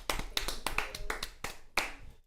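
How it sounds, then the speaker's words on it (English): A few people clap about eight times at close range in a quick, slightly uneven rhythm, with no talking. "You gotta clap for that one."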